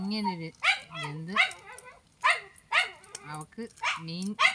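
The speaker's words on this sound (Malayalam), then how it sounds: "പട്ടിയുടെ അലപ്പുണ്ട്." A dog barks repeatedly in short, close bursts with a few gaps between them, and a voice talks alongside the barking.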